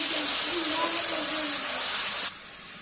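Onion-garlic paste fries in hot oil for a fish and taro curry, giving a loud steady hiss close by that cuts down abruptly near the end, with talking faintly under it.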